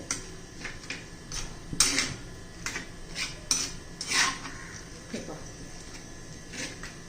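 Raw chopped onion stirred into chutney in a pan, with repeated metallic spoon clinks and scrapes against the pan at an uneven rhythm, faint and close, under quiet talking.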